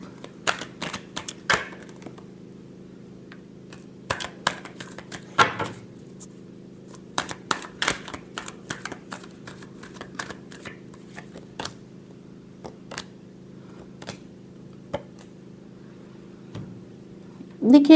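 Tarot cards are shuffled by hand in a quick final shuffle, giving scattered crisp riffles and flicks over a steady low hum. A louder cluster of card sounds comes near the middle and another at the end.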